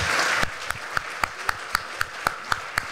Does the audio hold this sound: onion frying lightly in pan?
no